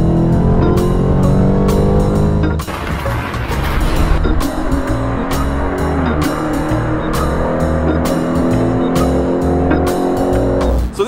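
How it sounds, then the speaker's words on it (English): A Tesla Model Y electric car accelerates hard with a rising motor whine and some tire squeal, loud and close, a continuous roar with no talking. "Let's see how fast this Tesla is."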